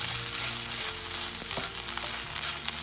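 Onions and celery for stuffing frying in a pan, a steady close broadband sizzle with faint crackles and a few light stirring clinks, continuous for about three seconds.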